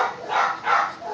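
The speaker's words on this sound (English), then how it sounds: "Sorry about the dogs." Several dogs barking indoors, two broad bursts of barking about half a second apart at moderate loudness, with no talk over them.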